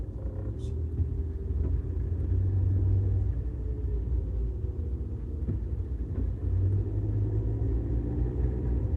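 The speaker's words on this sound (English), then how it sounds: "Just have to deal with the traffic today." Continuous low rumble of city car traffic on Toronto streets, steady and close, with engines droning and occasional passing vehicles blending into one dense background.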